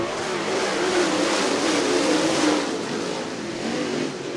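Late model race cars roar around Cottage Grove Speedway during a heat race, a loud sustained engine drone swelling as the pack passes and easing slightly toward the end.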